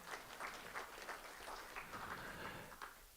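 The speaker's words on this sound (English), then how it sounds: "So how about give yourself a round of applause?" Faint, scattered applause from attendees of a conservation movement learning session, a soft wash of clapping with a few sharper individual claps, heard quietly for about three seconds without speech.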